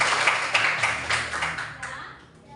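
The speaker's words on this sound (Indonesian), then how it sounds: "Tepuk tangan dulu untuk Eva." A classroom of students claps for a classmate, a dense, steady patter of many hands that fades toward the end, with faint voices underneath.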